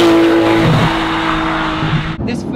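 A Porsche 911 GT3 (991.1) flat-six boxer engine holds a loud, steady drone close by, then drops away abruptly near the end.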